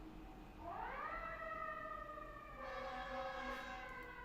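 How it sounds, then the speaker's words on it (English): A fire ladder truck's siren rises in pitch and holds a loud, steady wail, with a second tone joining later, nearby and continuous. "Sorry about the sirens."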